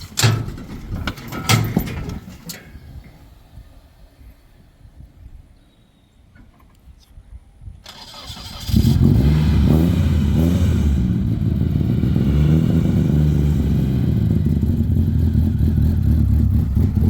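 Nissan S13 car being started, first with clattering and mechanical noise, then a quiet stretch. The engine catches at around nine seconds and settles into a loud, rough, steady roar that stays up close.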